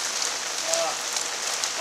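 Heavy rain from a gusty rainstorm pours down steadily as a dense, even hiss of drops hitting surfaces, loud and continuous throughout.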